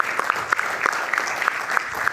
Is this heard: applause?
yes